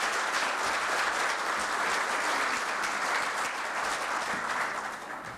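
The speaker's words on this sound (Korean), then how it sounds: "박수로 환영해 주시기 바라겠습니다." An audience at a Korea University labor-management forum breaks into sustained applause to welcome a speaker, a loud, dense, even roar of many hands that holds steady and then begins to thin toward the end.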